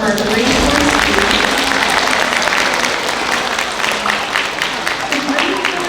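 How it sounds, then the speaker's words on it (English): Applause from a school assembly of children for the Grade 4 students presenting a Lent focus, a dense, steady wash of many hands clapping that stays loud throughout, with faint voices mixed underneath. "Boys and girls, let's give a big round of applause to our Grade 4 students."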